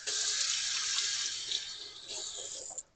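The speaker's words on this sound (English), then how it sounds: "Got to wash my hands." Hands washed under a running kitchen tap make a steady, close hiss of flowing water that shifts slightly as the hands move, then stops abruptly at the end, with no talking.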